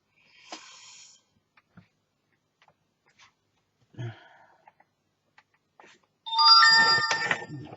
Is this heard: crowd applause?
no